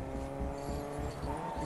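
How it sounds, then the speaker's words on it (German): Car engine from the video game Fortnite, a steady droning hum with tonal whine and a faint tire-squeal edge, loud and continuous throughout. "Wenn ich das Auto da schon höre"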